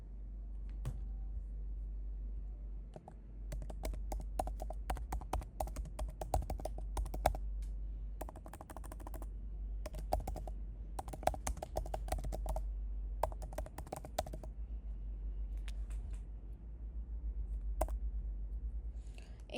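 Close, quiet typing on a computer keyboard comes in bursts of rapid key clicks separated by short pauses, over a low steady background hum.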